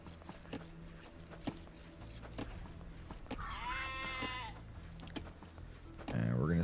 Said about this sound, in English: Looks like he's going to take on that sheep there.